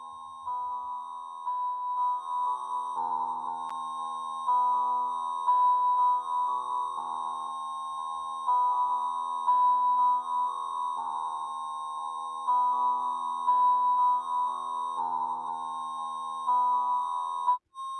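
A guitar effects pedal with feedback and heavy distortion engaged produces a continuous electronic tone that wavers in a looping, melodic pattern like telephone hold music, steady and fairly loud throughout with no talking.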